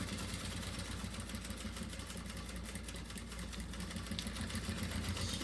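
A sewing machine runs a safety seam around the edge of fabric for a small cosmetic bag, a faint, steady mechanical whirring with fine rapid stitching ticks and no pauses.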